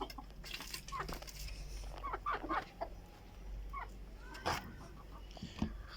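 Several chickens cluck and call at close range in a backyard coop during a daily egg-collecting routine, irregular bursts over steady background noise, with no talk.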